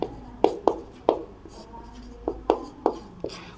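Pen strokes scratching on paper while a maths problem is written out, a series of short sharp taps and scrapes at an uneven rhythm, close and fairly clear.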